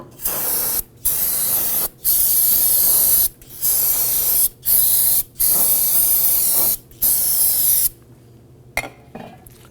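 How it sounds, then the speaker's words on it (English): Loud bursts of aerosol brake cleaner solvent hiss in repeated blasts with short pauses, flushing brake fluid during rear brake hose replacement on a 2008-2011 Ford Focus, close to the microphone, ending in quieter handling noise. "take some spray solvent and flush all of that brake fluid off"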